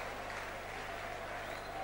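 A large stadium crowd at the 1983 John Player Trophy rugby league final between Leeds and Wigan roars and applauds for Wigan player Brian Case, a dense, continuous wash of cheering heard from a distance.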